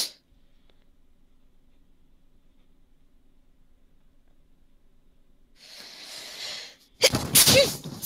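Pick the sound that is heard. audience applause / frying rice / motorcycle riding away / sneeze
sneeze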